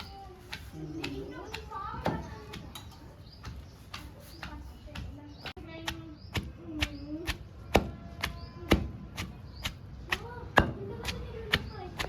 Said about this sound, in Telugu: ఇది కూడా సేమ్ జీలకర్ర మెంతుల పొడిలాగానే ఒక ఫిఫ్టీ పర్సెంట్ దంచుకోవాలి